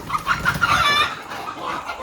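Desi village chickens and roosters cluck close by in a quick run of sharp, overlapping calls, loud at first and then thinning out toward the end.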